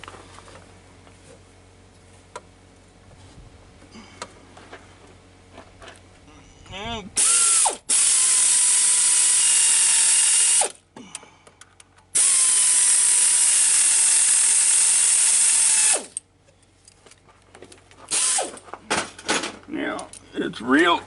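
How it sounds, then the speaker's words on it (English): Hose clamps being tightened on the cooling system of a diesel Mercedes, with a ratchet clicking in long, steady, loud bursts broken by short pauses, plus some quieter handling noise before and after. "Then we need to tighten up our clamps."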